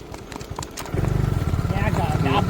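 A mare walks with a steady, close clip-clop of hooves that grows louder halfway through, under people talking.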